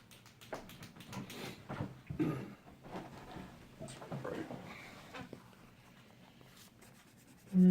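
An eraser rubs over a pencil sketch on paper in several soft, scratchy bursts of uneven length, close by and quiet, with a low hum in the background.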